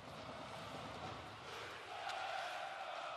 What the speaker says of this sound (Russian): Уже болельщиков ЦСКА довольно активно слышно